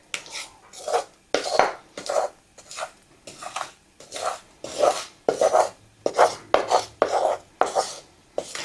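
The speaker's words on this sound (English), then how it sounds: "I'm going to put my brownie batter" Thick brownie batter gets scraped from a bowl into a sprayed baking pan, a close series of about a dozen rhythmic rasping strokes of utensil against the pan and bowl, each separated by short pauses.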